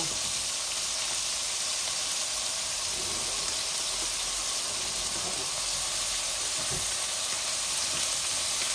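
Rohu fish frying in a pan over a flame, a steady, loud oily sizzle and hiss that runs unbroken from start to finish with no talking.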